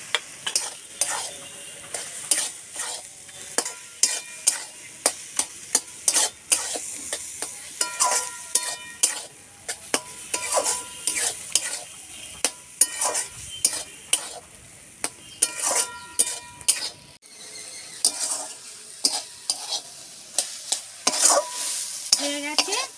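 Mashed poddo man kochu taro leaves with coconut and fried chilli powder are stirred in a wok with a metal spatula. Quick, close scraping strokes repeat in an uneven rhythm over a low background sizzle, with no voices.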